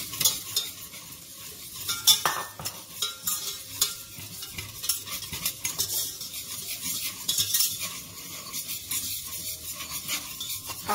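A spoon stirs flour into melted butter in a pan for a chicken and spinach soufflé, making continuous scraping and swishing with a light sizzle and occasional clinks against the metal.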